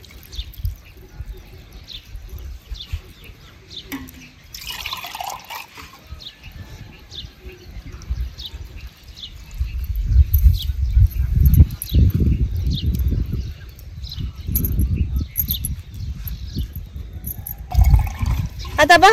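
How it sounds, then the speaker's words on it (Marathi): Water pours and splashes into a cooking pot of leafy chakvat bhaji, made in a village-style home kitchen, with a sloshing flow that swells midway and recurs, while a voice talks quietly nearby. "आता ह्याच्यात घालायचं आपल्याला पाणी."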